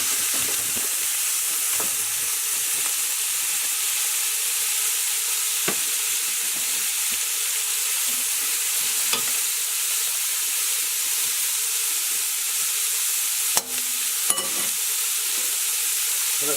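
Celery and onion sautéing in a pot, a steady loud sizzle and hiss running throughout, with a few faint stirring scrapes and one brief clink near the end.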